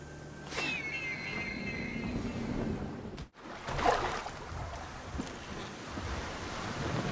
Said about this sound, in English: I think this boat can take those waves.